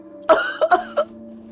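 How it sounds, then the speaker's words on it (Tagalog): Strong, harsh coughing from a person, four close, loud bursts in quick succession: a pair, a short gap, then two more. The first is the heaviest. No talking. "Pilit na pinipigilan ang malakas na ubo, pero hindi niya na kaya."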